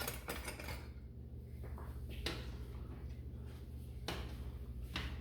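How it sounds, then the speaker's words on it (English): A spoon stirs orzo in a pot with faint scraping and light metallic clinks against the pot over a low steady kitchen hum. "We'll give it a quick stir."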